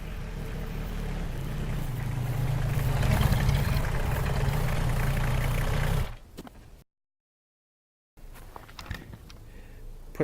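A tractor engine runs at a steady idle with a low droning rumble for several seconds, then cuts out abruptly; after a brief silence, rougher outdoor noise follows.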